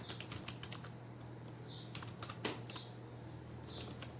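A computer keyboard clicks in quick bursts of light taps, close and fairly quiet, with short pauses between runs of keystrokes over a faint steady hum.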